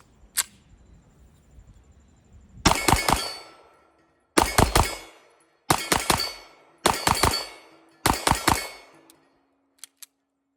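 A Kimber 2K11 Eclipse pistol with custom ports fires five rapid triple-tap strings at steel targets, each burst of three sharp, loud cracks ringing with clangs off the steel, followed by a couple of faint distant pings.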